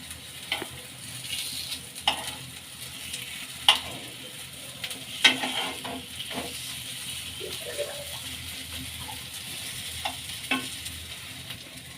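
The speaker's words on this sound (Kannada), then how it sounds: "ಎಣ್ಣೆಲಿ ಫ್ರೈ ಆಗಲಿ." Soya chunk, potato and pea tikki shallow-frying in oil make a steady, close sizzle with scattered clicks and scrapes from turning. No voices are heard.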